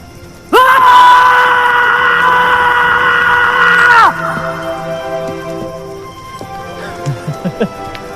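A crowd of people screams together at full voice in one sustained, loud, ragged roar lasting a few seconds, then breaks off abruptly, leaving lingering ambient tone and scattered fainter sounds.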